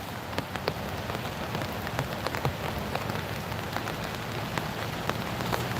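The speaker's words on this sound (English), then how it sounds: "It's a cold, rainy night, Steph." Steady rain falls on a cold night on a street outside an ICE facility in Portland, Oregon, a dense even patter with scattered sharper drops close by, no voices.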